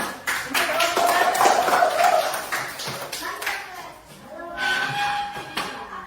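Children in a classroom clap for group one, two bursts of quick, scattered clapping split by a short lull, with faint chatter and voices mixed in.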